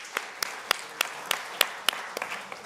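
Audience applause at a book launch event in a hall, heard as a run of sharp, evenly spaced claps about every quarter second, moderately close with soft room noise between them.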